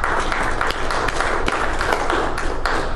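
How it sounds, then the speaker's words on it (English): A church congregation claps in praise during a service, a loud, dense and continuous wash of many hands clapping close by, with a few sharper individual claps standing out. "Get on a hand clap and praise."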